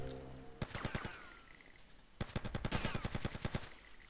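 Two rapid bursts of automatic gunfire from the video game GTA Vice City, sharp evenly spaced shots, the second burst longer and louder than the first.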